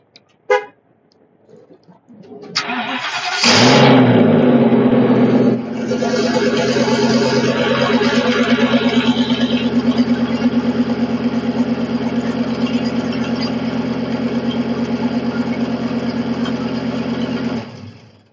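Ford F450 with a 6.8 V10 and the catalytic converter removed, cranking then firing into a loud raspy roar that settles into a steady, rumbling idle close by, with no talk.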